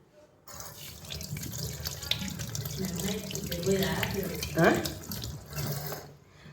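Tap water runs steadily into a kitchen sink during washing up after a Sunday pressure-cooker biryani meal, with dishes clinking and a louder splash near the end, while people talk in the background.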